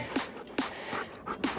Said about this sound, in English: Are you a wet dog?